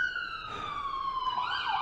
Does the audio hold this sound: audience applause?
no